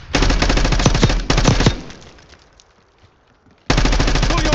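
Heavy automatic gunfire in a video game, two loud sustained bursts of rapid shots that trail off into quiet before another dense burst erupts near the end.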